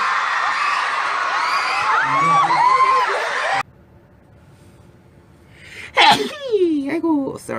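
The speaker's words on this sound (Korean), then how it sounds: "오늘 재채기 왜 이렇게 많이 나오냐?" A performer sneezes on stage amid a cheering crowd: loud crowd noise fills the first few seconds, then after a quiet gap comes one sharp, close sneeze followed by brief voiced sounds.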